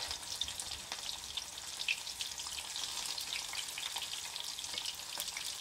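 Tempura vegetables deep-fry in oil with a steady, close crackling bubble that stays even throughout, with no voices.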